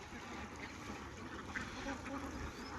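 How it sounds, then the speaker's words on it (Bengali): Ducks kept in an enclosure on a Chalan Beel duck farm of about 800 birds give scattered quacks over steady outdoor background noise, fairly faint and continuous throughout. "এই পাশে দেখেন হাঁস রাখা আছে,"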